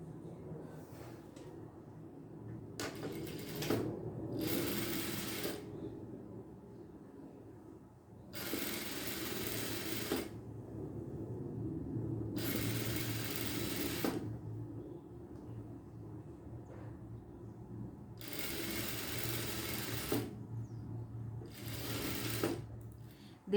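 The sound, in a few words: sewing machine stitching a seam on fabric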